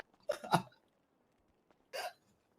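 A man's burp in a casual Thai hangout, two short bursts about a second and a half apart, moderately loud against a quiet background.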